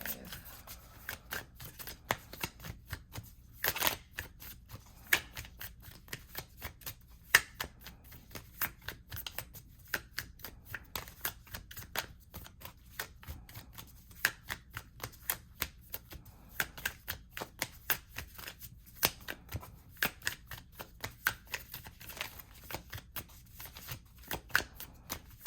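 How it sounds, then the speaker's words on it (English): Oracle cards are shuffled close up, with quiet rapid flicking and riffling clicks in irregular bursts over a long stretch, and no talk over them. "So I'm going to pull an oracle card for you"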